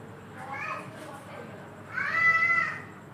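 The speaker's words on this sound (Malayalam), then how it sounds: "ഹസീബ് എന്ന് പൂച്ചയെ പരിചയപ്പെടുത്തുകയാണ്" A pet cat at home gives two meows, a short one and then a longer, louder drawn-out cry, close by in a quiet room.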